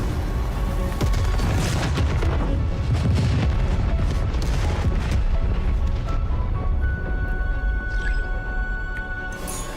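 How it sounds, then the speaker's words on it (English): A moon firing a laser beam in Genshin Impact, heard as a loud, sustained roar of booming blasts and rumbling energy that fills the whole stretch, easing slightly near the end as a faint high tone rises. "Why is the moon shooting a laser beam?"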